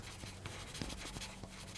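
A graphite pencil scribbles squiggly marks on paper, a faint scratchy rasp in short uneven strokes, close and quiet with no talk.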